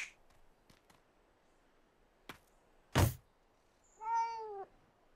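A cartoon cat lets out a clear, drawn-out meow near the end, preceded by a few soft thumps and one sharp whack, set against a quiet background.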